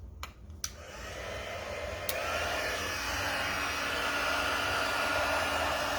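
A heat gun melting embossing powder on a candy cane craft, starting with a couple of clicks and then a steady loud blowing whir that keeps running, close and alone.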